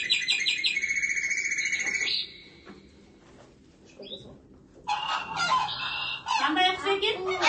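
A recorded swan's honking call plays in a classroom during a children's bird-guessing game, loud bursts of trumpeting at the start and again near the end, with a quieter gap between, heard up close.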